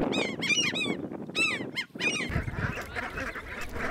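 Geese in the Yukon-Kuskokwim Delta call in loud, close, repeated honks in quick overlapping bursts, then the calling gives way to a rougher, noisier stretch of flock sounds.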